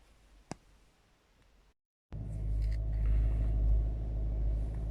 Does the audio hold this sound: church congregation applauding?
no